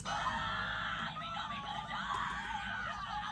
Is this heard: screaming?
yes